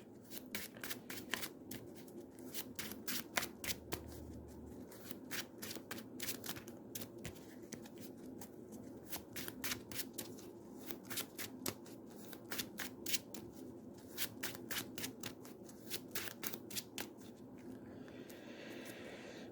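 Rapid, crisp riffling of playing cards for the Marvel Champions card game, repeated in quick bursts, close and fairly quiet, continuing steadily with no voices.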